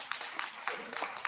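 A scattered, faint round of applause from a community meeting audience, with a handful of separate claps spaced through a short stretch.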